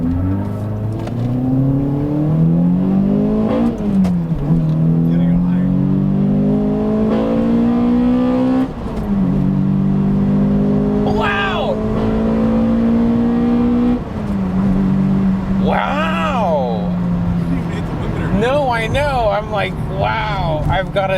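A Toyota Matrix XRS accelerates hard through several gears, its engine note climbing high in repeated sweeping pulls with shift dips between, heard from inside the cabin with people talking over it.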